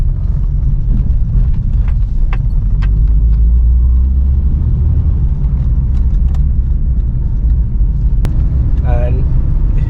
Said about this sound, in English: the car easily shot up to 60 within few seconds, and now I am in fourth